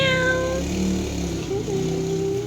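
A cat lets out a drawn-out meow, followed by a second rising meow, close and clear.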